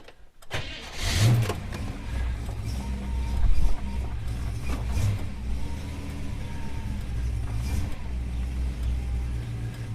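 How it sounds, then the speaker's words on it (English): A Holden HK with a troublesome starter motor cranking and catching on a cold start, then settling into a steady rumbling idle as it warms up, close by and continuous. "Let's start her up and warm her up if she starts."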